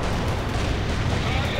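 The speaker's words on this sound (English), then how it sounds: "Yeah, airstrike." Continuous rumbling booms and crackling blasts from airstrike explosions in the World in Conflict video game, loud and sustained throughout with no clear gaps.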